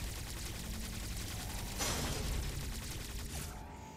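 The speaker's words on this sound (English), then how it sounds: "Omega Blaster! Omega Stream!" The Omega Stream weapon in Metroid Dread fires in a sustained burst, a loud, dense stream of crackling blasts that swells midway and then tapers off, with no voices.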